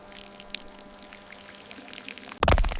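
Water poured over wooden wedges driven into cuts in limestone blocks: a quiet trickling background, then a sudden loud splashing pour near the end, close and without talk.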